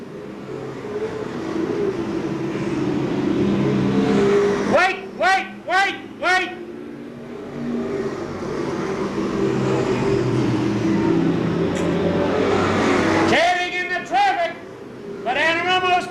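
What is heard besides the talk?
stock cars racing at Seekonk Speedway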